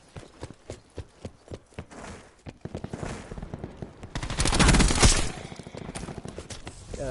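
Gunfire in a video game: repeated short bursts from an automatic weapon, rapid rattling volleys spread across the clip with a louder, denser stretch of fire near the middle.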